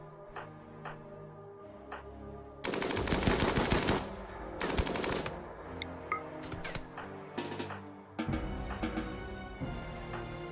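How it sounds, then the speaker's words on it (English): Mini turrets in the video game RimWorld fire in dense rapid bursts, loud and continuous for stretches, among other clicking and impact game effects with no talk. "Alright, mini turrets turned on."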